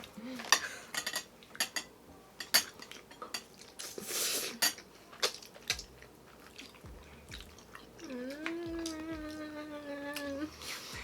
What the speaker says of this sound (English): I'm gonna spend my whole time just stirring this bitch up.